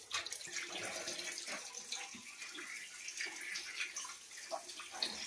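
Tap water runs and splashes steadily as freshly cut fish, hilsa, pomfret and small fingerlings, are rinsed by hand, with irregular drips and sloshing close by.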